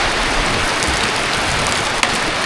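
Heavy rain pouring down steadily during a flood as water rises, a loud, dense, continuous hiss close by, with a brief knock near the end.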